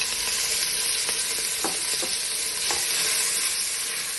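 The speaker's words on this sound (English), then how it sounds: "you're just going to start to cook that out and render that bacon fat out." Smoked bacon frying in a pan gives a bright, steady sizzle up close, with a few stirring scrapes and pops and no voices.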